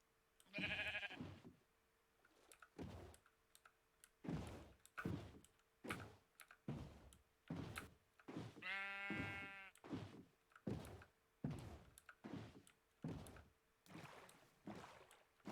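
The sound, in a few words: sheep bleating in the video game Minecraft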